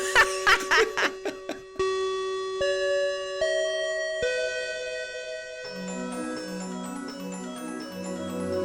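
A bell rings out to close an episode of an anime discussion show: a few clear chime tones step down one after another and ring on, after brief laughter. Soft music takes over at the end.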